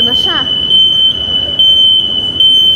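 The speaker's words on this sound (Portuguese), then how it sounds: "Isso aqui é um alarme de incêndio." A fire alarm at a central station rings with one continuous, piercing high tone that holds steady throughout, loud and close, while a person talks briefly underneath.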